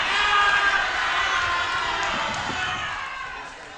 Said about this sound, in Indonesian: Sekali lagi tepuk tangannya meriah untuk kedua pasangan calon